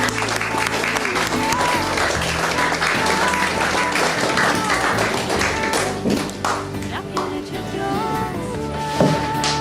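Audience at a book launch applauds to welcome a speaker, steady clapping filling the room for most of the stretch with music and voices mixed beneath it, thinning slightly toward the end.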